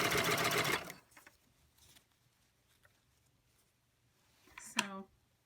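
A serger sewing machine stitching a zipper gives a brief, fast, loud whirring run at the start, then falls quiet apart from faint clicks and a short voiced sound near the end.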